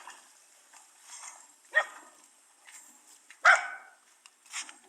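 A dog barks a few times, scattered and at moderate distance, with short sharp yaps separated by quiet pauses.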